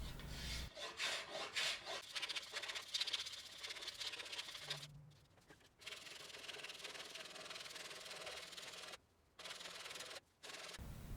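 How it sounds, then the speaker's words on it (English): Hand scraper rasping along the limb of an Osage orange selfbow during tillering, a steady run of close scratchy strokes with a few short pauses, no talking. "Using the scraper, I'm going to continue the process of tillering and weight reduction"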